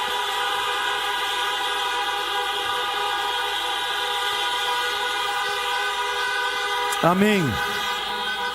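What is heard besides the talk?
car horns honking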